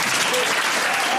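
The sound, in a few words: clapping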